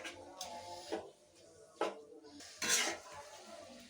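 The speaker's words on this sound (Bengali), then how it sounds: "বারবার উল্টাই পাল্টাইয়া লাড়িয়া দিম" Leafy greens stirred and flipped in a pan with a utensil, giving a few sharp clanks and scrapes against the metal, spaced out irregularly, moderately loud and close, with quiet background.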